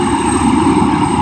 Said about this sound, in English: Pretty cool helicopter though.